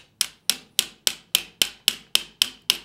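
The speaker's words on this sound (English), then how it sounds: "I'll take my hammer and I'll start tapping it through until it captures the sear housing" A hammer taps a coil pin into the sear housing of an FN 509 pistol: ten sharp, evenly spaced metallic strikes, close and clear, in a steady rhythm.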